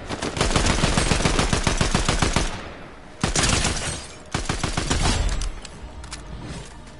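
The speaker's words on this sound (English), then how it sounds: "I hear gunshots." Rapid automatic gunfire in a PlayStation 4 video game, loud dense bursts of shots in several long volleys separated by short pauses.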